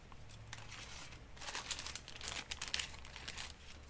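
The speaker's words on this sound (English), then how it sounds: "I'm going to crumple that up too." Paper, including an invoice page, being crumpled by hand for a scrapbooking project, giving bursts of crinkling and crackling that grow busier and louder toward the end over a low steady hum.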